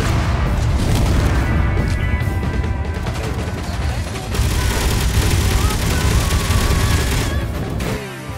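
Rockets and gunfire pound a wall in the Space Engineers video game, a dense, continuous barrage of blasts and crashing impacts with no letup, loud and close throughout.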